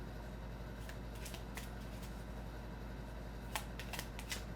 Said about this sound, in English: there's really no real way of shuffling a deck this tiny